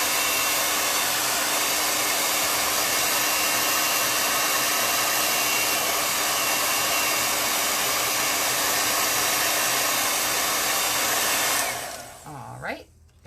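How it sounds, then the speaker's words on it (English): A hair dryer blows loud and steady close by, drying chalk paste on a stencil laid over a scarf, then switches off near the end and spins down into quiet. "I'm going to dry this up before I pull it off"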